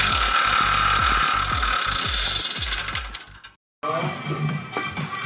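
Air impact gun hammering at exhaust bolts on a Saturn Vue, running in a loud burst of rapid rattling blows with a deep thudding pulse, then a brief silence before a clattering, quieter tail of metal handling.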